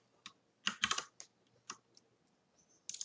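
Password being typed on a computer keyboard: a handful of quick, crisp key clicks in short irregular bursts, close and fairly quiet, with pauses between them.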